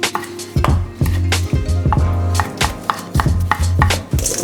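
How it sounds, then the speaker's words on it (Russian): A knife chops ham in natural casing on a cutting board, a series of sharp close thuds in an uneven rhythm, each strike followed by a short ringing tone. "Нарезаем ветчину в натуральной оболочке."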